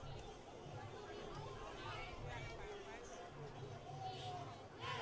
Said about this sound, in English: You can definitely hear the motivation swinging from this Oakleaf crowd